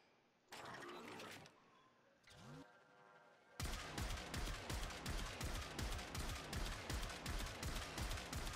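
Gunshots in the video game Warframe, with a couple of short bursts followed by a steady run of evenly spaced, punchy shots up close, and no voices.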